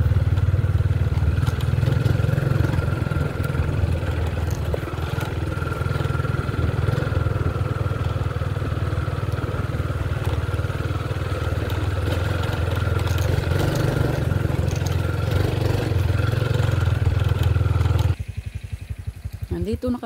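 A motorcycle rides along a narrow path beside a small river, its engine a steady, loud mid-range drone that runs nearly the whole time before cutting off abruptly near the end.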